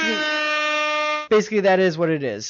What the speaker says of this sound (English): with that air horn, you know that means it is time for the end of the show